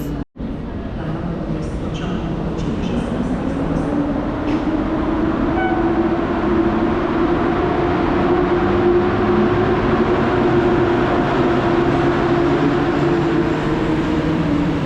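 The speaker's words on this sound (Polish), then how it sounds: "o tej porze rusza pociąg Comenius" The Comenius international passenger train pulls out of Kraków Główny station with a loud, steady rumble and rising hum of wheels and coaches rolling past, a sharp transient at the very start.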